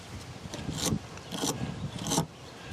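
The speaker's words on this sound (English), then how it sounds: "this is a hard enough brush that I can get it all off of there" A stiff brush scrubs rust from the threads of a nut on a 2017 Ford Explorer rear wiper, making three loud, close, rasping back-and-forth strokes.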